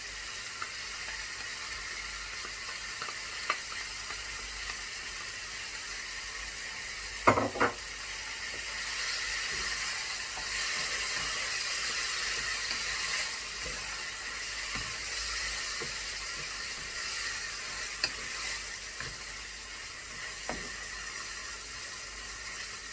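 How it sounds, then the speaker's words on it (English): Fresh chopped tomatoes frying in a pan as an eggplant filling cooks, giving a steady soft sizzle and hiss with a few utensil clicks and a brief stir or clatter near the start, with no talking. "in the end we are putting the fresh chopped tomatoes"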